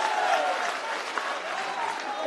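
Applause from a crowd at a Congress party political rally, a steady wash of clapping heard throughout at moderate distance, continuous and even without distinct individual claps.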